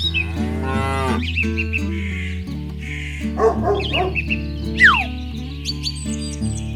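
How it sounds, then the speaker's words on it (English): A cow moos loudly over a steady background of layered music, with some animal-like chirps and squeaks mixed in, and no talking. "Cow."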